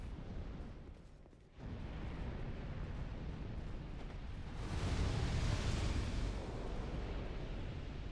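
Fire bomb explosions in the game Dark Souls II, with rumbling blasts that swell into a heavy, roaring burst midway and then a sustained crackling rumble, loud and close.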